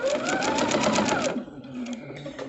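Sewing machine stitching pieces of a star-pattern quilt, a steady fast mechanical whir with rapid needle pulses for over a second, then slowing and stopping, leaving quiet handling noise.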